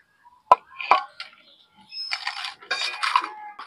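Fried potato chips lifted out of a pan of hot oil with a metal utensil: two sharp clinks against the pan, then a dense, crisp rustling and crackle of oil and chips that continues to the end.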